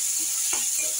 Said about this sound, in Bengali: আমি এই মাছ ভাজা তেলের মধ্যে একটু কালো জিরে ফোড়ন দিয়েছি আর একটু পেঁয়াজ কেটে দিয়ে দিয়েছি।